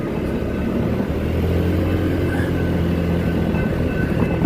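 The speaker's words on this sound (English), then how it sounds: "But ooh, that's a long train." A long passenger train rumbles past at a stop, giving a steady low rolling drone with faint squeals on top, sustained and fairly close throughout.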